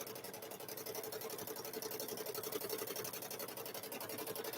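A sewing machine free-motion stitches a quilted handbag, producing a fast, even mechanical whirring chatter of rapid needle strokes, close and steady throughout, with no talking.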